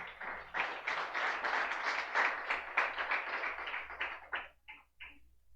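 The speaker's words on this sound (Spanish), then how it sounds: "Denle un aplauso al Señor." A church congregation applauds the Lord after a sermon, filling the room with dense clapping that thins out into a few scattered last claps before stopping.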